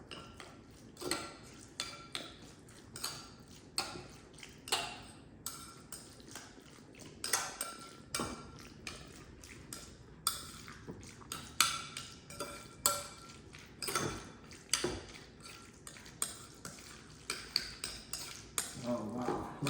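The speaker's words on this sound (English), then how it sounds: "And then we just mix it up all really well." Spicy tuna mixture being stirred in a bowl for a Japanese donburi, with a steady run of soft clinks and scraping taps from a utensil against the bowl, close and fairly quiet.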